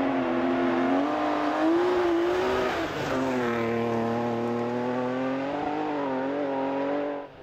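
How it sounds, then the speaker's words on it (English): A Clubman spec BMW rally car powers along a special stage at the Speyside Stages, its engine note loud and close, climbing and dropping through gear changes with one brief lift midway. "An amazing run in a Clubman spec BMW."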